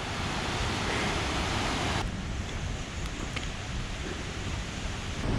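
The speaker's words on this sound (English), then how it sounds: "That sounds like a waterfall and a half." A waterfall near a Mont Blanc hiking trail roars as a steady, loud wash of broadband noise with no break, mixed with some wind rumble on the microphone.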